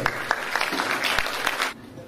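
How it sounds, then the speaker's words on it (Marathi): Audience at a Pali Day celebration gathering clapping to open the programme, a short burst of applause with distinct claps that stops abruptly near the end. "सर्वांनी जोरात टाळ्या वाजवून आपल्या या कार्यक्रमात सुरुवात करू"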